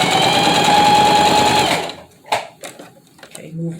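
A sewing machine stitches a fabric face mask in a fast, steady whir for about two seconds, then stops, leaving a few soft handling clicks and a quiet voice.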